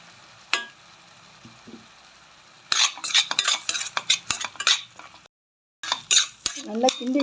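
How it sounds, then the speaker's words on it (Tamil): Tomato paste, mixed herbs and chat masala are stirred in a pan for penne pasta, with a spoon clinking and scraping in quick bursts over a soft sizzle after a quiet start and a brief gap. "நல்லா கிண்டி விட்டுக்கிட்டு இப்போ பாஸ்தாவை போடுறோம்."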